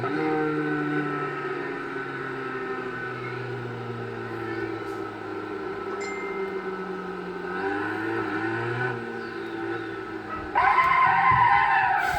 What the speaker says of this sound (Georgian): ცოტა მოვაცურე რა, მაგრამ ეგ ეხა ბრეიკი დრიფტი არის რა.